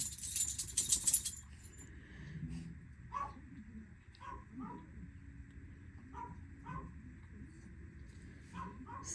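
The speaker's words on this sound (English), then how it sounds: "that's about the only time the Chihuahua really barks, is when he is hungry" Small Chihuahua dog barks and yips in short scattered bursts, fairly faint and somewhat distant indoors, with a jangle of metal near the start.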